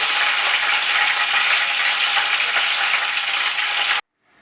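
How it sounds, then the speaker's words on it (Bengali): Pomfret fish sizzling in hot oil in a pan, a bright and steady crackling hiss that holds close and loud for about four seconds and then cuts off abruptly. "এইভাবে আমি বাকি দুটো মাছও কিন্তু ফ্রাই করে নেব"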